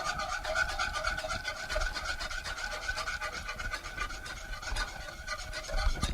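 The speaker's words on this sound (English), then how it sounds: "Be careful not to whisk too hard into your pot, especially if it's non-stick, or you'll scratch your surface." A whisk scrapes and swishes through a cream mixture inside a cooking pot, a continuous close rubbing texture with quick repeated strokes and no talk.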